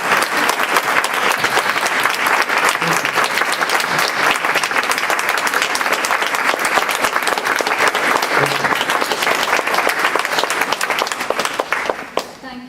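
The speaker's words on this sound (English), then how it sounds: "Perhaps we could end with a round of applause." A large audience at an evening talk breaks into sustained, dense applause that stays loud and steady throughout, trailing off only at the very end.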